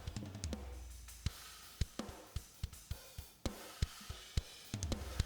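Kick and snare drums with parallel compression, close and punchy. Tight snare hits land in a steady groove over a dense, fattened drum wash with no voices.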